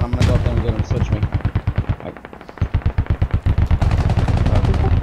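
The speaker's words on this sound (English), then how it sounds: "Contact, hearing shots west." Rapid gunfire and machine-gun bursts in the Squad military shooter game, loud, dense and close, with a brief lull near the middle before the firing resumes, and voices talk over the shooting.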